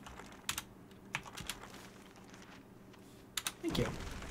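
Keys clack on a computer keyboard while The Bard's Tale is played, a few scattered sharp taps in short bursts with quiet gaps, ending in a louder rush of game noise.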